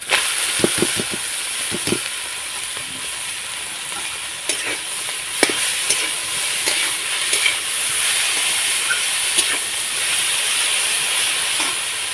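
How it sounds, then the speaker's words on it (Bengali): Boiled cabbage tossed into a pan of lightly fried chopped ginger and green chilli, giving a steady close sizzle with scraping stirs and a few sharp clinks early on, no voices. "এবার বাঁধাকপিগুলো দিয়ে দিব সিদ্ধ করা"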